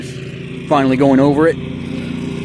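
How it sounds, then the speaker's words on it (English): A Husqvarna zero-turn lawn mower cuts tall grass, its steady engine drone running throughout while someone talks loudly over it for a moment. "It kind of made the lawnmower kind of go down a bit."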